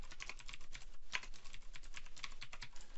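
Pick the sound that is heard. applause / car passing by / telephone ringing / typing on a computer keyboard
typing on a computer keyboard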